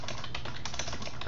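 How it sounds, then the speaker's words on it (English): Rapid typing on a computer keyboard, close and steady with dense overlapping key clicks throughout, no voices. "So I'm going to type"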